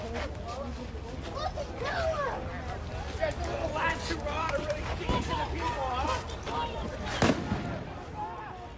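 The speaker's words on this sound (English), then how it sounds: "More flashbangs." Flashbang grenades go off during a street clash between protesters and police, with sharp bangs cutting through loud crowd shouting and babble, one especially strong blast near the end.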